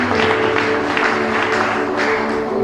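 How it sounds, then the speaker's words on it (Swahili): A church congregation at a ministers conference in Kenya applauds and cheers in praise, a dense, steady roar of clapping and voices filling the hall throughout. "Tumpe Bwana Yesu shangwe."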